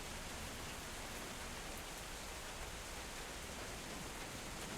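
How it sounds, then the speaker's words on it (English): Steady, dense rain hiss with no distinct drops or gaps, a constant wash of noise setting a quiet, eerie mood in a tabletop fantasy game. "the rain starts to pick up"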